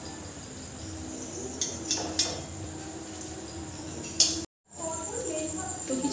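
Utensils clink against a pan while fried palm-fruit fritters are lifted out of hot oil, a few sharp metallic taps under a steady low background, followed by a brief total dropout.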